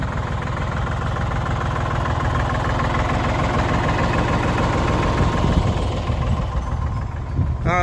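A farm tractor with a front end loader idles nearby, a heavy, steady diesel rumble with a knocking, rhythmic chug that continues without pause, slightly rising toward the end.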